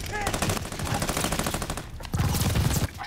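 Rapid automatic gunfire in Call of Duty Vanguard, dense and loud with continuous bursts and a brief gap near the end.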